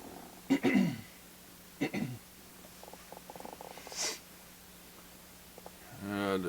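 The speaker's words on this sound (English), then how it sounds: "And to clear my throat, still battling a cold." A man reading scripture aloud while fighting a cold clears his throat in two short, rough, close bursts in a quiet room, followed by a brief breathy vocal sound.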